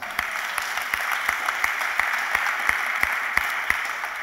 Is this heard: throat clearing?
no